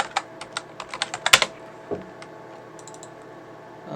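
A computer keyboard being typed on to enter a login password, a quick run of about a dozen crisp, close key clicks followed by a couple of sparse taps and near quiet.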